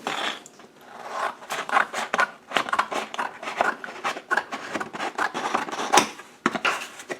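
Scissors cut out a quick patch template for a footwell repair on a 109. The snipping and rustling come in a close, continuous run of uneven strokes.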